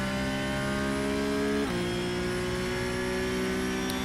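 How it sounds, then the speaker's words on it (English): Porsche Cup car engine in iRacing on the Charlotte Roval, droning at steady high revs and then dropping in pitch through a quick upshift, loud and close, with no talk over it. "Quick upshift."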